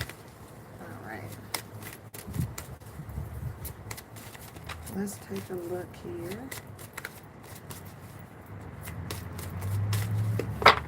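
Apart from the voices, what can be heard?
shuffling tarot cards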